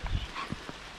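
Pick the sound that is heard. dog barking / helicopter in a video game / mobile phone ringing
dog barking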